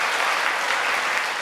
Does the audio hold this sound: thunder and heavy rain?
no